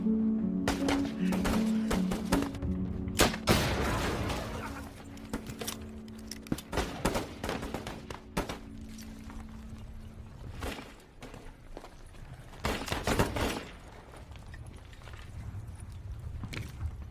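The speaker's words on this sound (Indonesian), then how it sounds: "Dengan cara membidik, Mayor Lee menembaki granat yang ia sebar sebelumnya satu persatu." Film action scene with gunfire shooting at scattered grenades, sharp cracks and bursts spread across the scene alongside thuds and scuffling footsteps, with a sustained rumble and a loud cluster of shots near the end.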